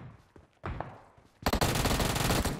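M16 rifle fire in PUBG Mobile: a few scattered shots, then a dense, loud automatic burst that rattles on steadily without a break.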